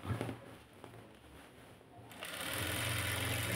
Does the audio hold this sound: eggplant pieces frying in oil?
no